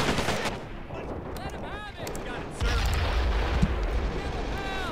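Sustained gunfire with mixed small-arms bursts in a Men of War: Assault Squad 2 battle during the Omaha Beach landing, heavy and continuous throughout, growing louder and denser with booming low rumble in the second half, voices faintly mixed in.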